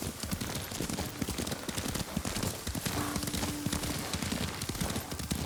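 Horse hooves clop in a quick, steady rhythm during a ride in the video game Ghost of Tsushima, a continuous galloping patter at moderate level, with a brief tonal hum partway through.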